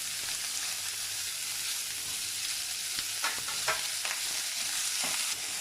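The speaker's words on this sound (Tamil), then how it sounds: "லைட்டாக பச்சை வாசனை போகிற வரைக்கும் வதக்கி எடுத்துக்குவோம்." Onion, tomato and coconut frying in a pan for Kerala-style kadala curry, with a steady close sizzle and several sharp scraping stirs toward the end.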